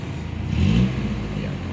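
A 1996 Mazda 323 with a carbureted 1.3-litre gasoline engine gives one short rev that swells and settles back to idle, close by, over a low steady rumble.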